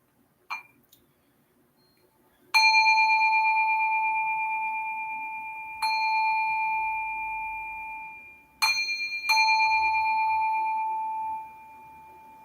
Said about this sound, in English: I'll ring the bell 3 times to start a meditation